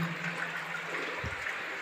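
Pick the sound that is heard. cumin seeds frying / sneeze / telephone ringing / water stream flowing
water stream flowing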